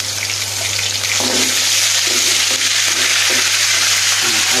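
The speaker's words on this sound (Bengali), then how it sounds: "সবগুলো সিম আমার এই কড়াইতে দিয়ে দেবো।" Flat beans tossed with spices fry in a hot wok, loud steady sizzling with rhythmic scraping and stirring strokes over a constant low hum.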